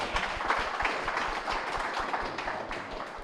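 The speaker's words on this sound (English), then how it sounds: "Ladies and gentlemen, give him a round of applause" A small group gives a round of applause during a casual podcast recording, a brief patter of scattered hand claps at moderate distance, fairly quiet and fading rather than building.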